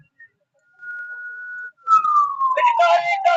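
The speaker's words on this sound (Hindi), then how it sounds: "एम्बुलेंस को रास्ता दे दें" Ambulance siren on a road in Gujarat, a sustained wailing tone that holds steady and then sweeps downward, loud and near, with crowd voices and road noise joining in the second half.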